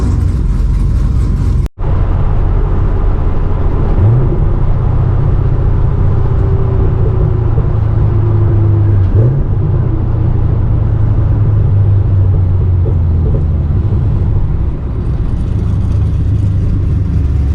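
Chevrolet Camaro running open headers, a loud, heavy engine rumble held close and steady throughout, with a brief drop near the start and slight pitch shifts as it idles and revs.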